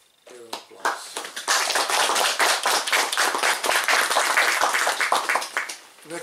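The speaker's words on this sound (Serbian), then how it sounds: "Pa, jedan aplauz." An audience at a Serbian gathering breaks into sustained clapping that rises quickly and holds steady for several seconds before tapering, with dense overlapping hand claps filling the room.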